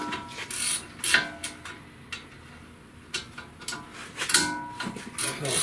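Ratchet wrench working on a 2016 Honda Pilot brake job, clicking in quick bursts as it turns and reverses, with pauses between runs and faint background noise.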